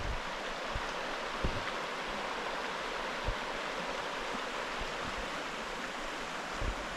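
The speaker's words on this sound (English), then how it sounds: "This is called Panther Creek." Panther Creek at a campsite flows with a steady, full rushing of water, close and constant throughout, with no voices.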